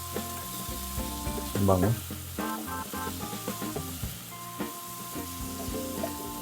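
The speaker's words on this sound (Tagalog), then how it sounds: "haluin lang natin siya" Seafood sinigang with milkfish belly, shrimp, mussels and tomatoes is stirred in a pot, a close bubbling sizzle with scraping clatter under a brief spoken remark.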